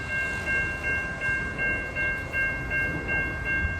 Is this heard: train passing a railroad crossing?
yes